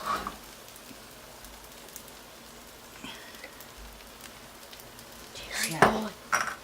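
Teriyaki shrimp being stirred in a new wok, soft sizzling with intermittent metallic clinks and scrapes of a utensil that grow louder near the end, with a voice speaking at times.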